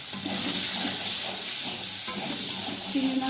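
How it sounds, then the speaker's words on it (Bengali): Prawns rubbed with salt and turmeric frying in a pan, a steady loud sizzling hiss that runs continuously throughout, with faint stirring underneath. "এবার এই যে চিংড়ি মাছগুলো একটু ভেজে নিতে হবে।"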